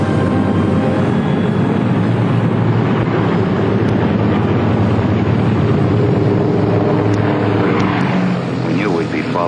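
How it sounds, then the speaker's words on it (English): WWII pathfinder aircraft taking off at night in June 1944, the propeller engines giving a loud, continuous, close roar with wind buffeting the microphone. "heard the roar of engines as the Pathfinder ships began hopping off."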